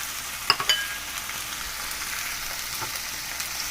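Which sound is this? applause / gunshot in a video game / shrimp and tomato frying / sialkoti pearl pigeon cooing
shrimp and tomato frying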